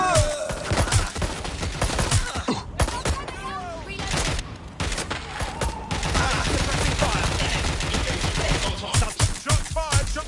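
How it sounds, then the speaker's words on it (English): Rapid gunfire bursts and loud shots in the video game Watch Dogs Legion, dense and continuous throughout with some game voices mixed in. "Shots fired!"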